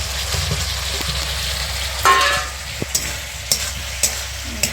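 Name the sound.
fried potatoes added to sizzling masala in a pan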